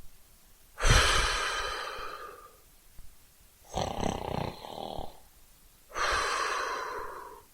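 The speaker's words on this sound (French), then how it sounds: "une respiration lente et régulière dit à Natala que l'oncle s'est endormi" A sleeping man breathes slowly and regularly nearby, three long, raspy, audible breaths spaced a few seconds apart with quiet pauses between.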